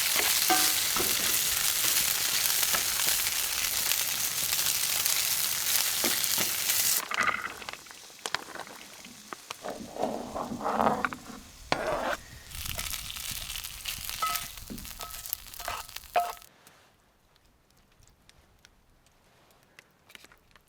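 Food frying in oil in a pan at a snowy truck campsite, a loud steady sizzle for the first seven seconds, then quieter crackling and stirring that fades out near the end.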